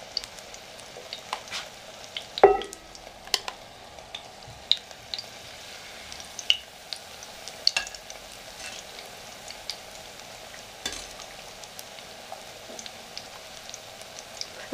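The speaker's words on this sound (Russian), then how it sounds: "Мясо жарите на умеренном огне без крышки." Batter-coated chicken breast crackles and spits in hot oil in an uncovered pan at low volume, scattered sharp pops over a soft constant sizzle, with an occasional utensil tap.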